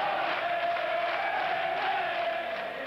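A capacity hockey crowd in a German arena, Düsseldorf, cheers in a steady, dense roar heard from within the stands, with no distinct voices standing out.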